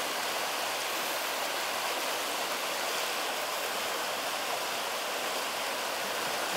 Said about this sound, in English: You can see how strong the current is right now going over that, and you can hear it.